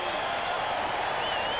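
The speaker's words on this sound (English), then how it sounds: "And the crowd gives him a good hand, too." A baseball crowd applauds a player's first hit, steady dense clapping and cheering from a large stadium audience, sustained and fairly loud throughout.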